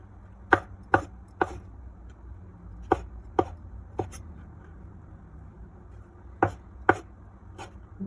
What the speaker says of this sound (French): Coupez les champignons en petits morceaux.